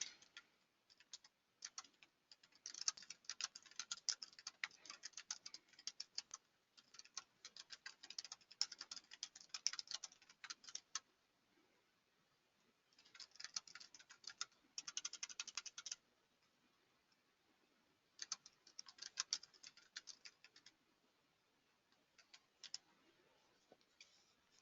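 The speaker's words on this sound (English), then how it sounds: "so I can type in the information and click the Save button." Keyboard typing on a computer, quick irregular clicking keystrokes in bursts separated by pauses, fairly faint and close, no voices.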